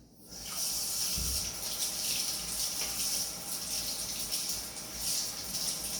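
Tap water runs steadily into a sink to wet towel strips for a cake pan, a continuous gushing stream that holds at an even level from start to finish, close by with no talking.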